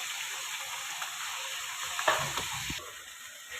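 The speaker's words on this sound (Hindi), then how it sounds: "चिकन को हमने इतना फ्राई करना है कि जब तक ये वाइट हो जाए" Chicken fries in hot oil with ginger garlic paste, a steady close sizzle and hiss with a brief burst of stirring scrapes near the middle, no talking.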